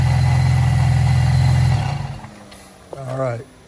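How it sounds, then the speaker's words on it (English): A supercharged 2008-2014 Cadillac CTS 3.6L V6 runs with a loud, steady low drone that fades off partway through, followed by a brief nearby voice. "So now I'll turn the engine on"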